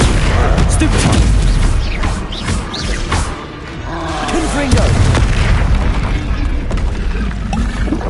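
A Stupefy stunning spell is cast during combat in the Hogwarts Legacy video game, with a booming impact among rumbling, mechanical battle sounds that stay loud throughout.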